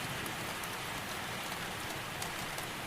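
Rain falling steadily outside a bookshop and streaming down the front windows, heard as a continuous, even hiss of dense drops with no pauses and no voices.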